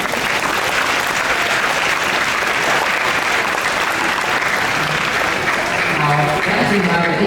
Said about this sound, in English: Let's have another round of applause for our new president,